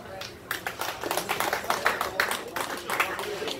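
Comedy-club audience in Los Angeles claps at a stand-up show, a quick run of scattered hand claps of moderate loudness mixed with some voices.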